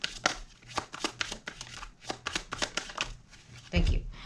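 Tarot cards being shuffled close by, a quick series of soft riffling flutters and taps running throughout, ending in a louder thud, with a voice speaking over part of it.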